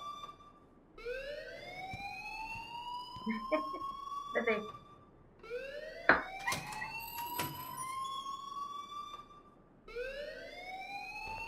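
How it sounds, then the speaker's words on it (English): A school alarm blares in the game Life is Strange, repeating rising siren sweeps in a steady cycle, loud and close, while characters speak over it in short bursts. "please turn off that alarm since that's your job."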